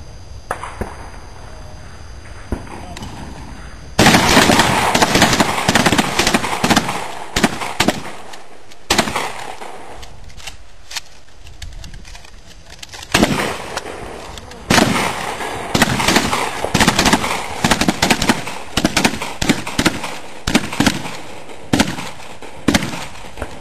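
Rapid gunshots crack out at a UK shooting range, dense sharp reports in bursts and quick strings after a quieter opening, loud and close with brief gaps between volleys.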